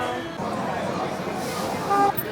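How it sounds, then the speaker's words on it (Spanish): A short motorbike horn toots amid busy street noise in Tongli water town, China, a quick beep rising briefly above the traffic hum while someone talks. "cada 2x3 se escucha que se agarran a los bocinazos"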